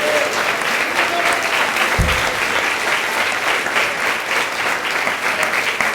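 A church congregation claps in sustained, even applause that fills the room, with one brief low thump partway through.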